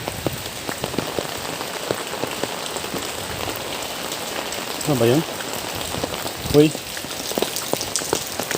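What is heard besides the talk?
rain falling during typhoon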